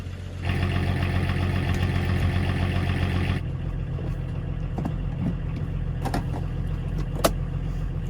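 A project car's engine running steadily as the car creeps forward, a loud droning idle that changes tone partway through, with a few clicks and knocks near the end.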